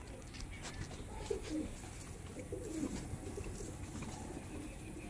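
A male and female pair of Kasuri Kalsira pigeons give a couple of soft, quiet coos a moment apart over a faint background hush.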